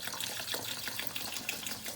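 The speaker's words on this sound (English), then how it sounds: "Next we have our still spring water you can get from your supermarket. We're going to just pour this in slowly" Still spring water poured slowly into a newt tank, a steady close trickle and splash running without a break and with no talking.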